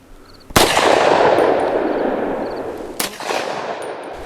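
Tokarev round fired into IIIA body armor: two loud sharp gunshot cracks a few seconds apart, each ringing out with a metallic clang and decaying echo, and no talk.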